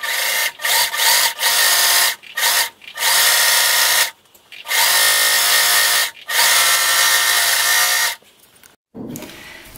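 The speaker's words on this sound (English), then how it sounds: "So I have a serger and that's what I will be using." A serger finishes the seam edges of a shirt being let out. It runs in about half a dozen quick, loud, whirring bursts separated by short pauses, close up and with no talking.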